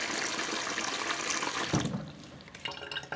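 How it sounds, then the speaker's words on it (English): Water pours steadily into a bowl of grated coconut for a Caribbean cornmeal pudding, a close splashing gush that shifts in tone midway as the stream hits the shreds. "So I'm getting the water in."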